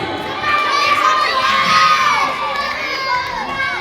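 Schoolchildren in the audience shout and cheer loudly at a primary-school religious knowledge quiz competition, a dense, sustained crowd of young voices that swells after the first half second and stays strong throughout.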